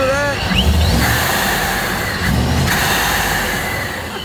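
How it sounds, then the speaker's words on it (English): A supercharged work van engine with a Procharger bypass valve revs and settles up close, with a rising whine and airy whoosh as the valve vents, while people talk over it. "So this uses a bypass valve, not a blow-off valve, but essentially does the same thing as far as cool noises."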